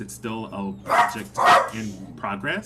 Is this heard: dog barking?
yes